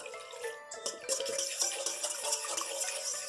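Water is poured into a stand-mixer bowl holding egg yolks for panettone dough, a steady close splashing trickle with faint clinks of the bowl.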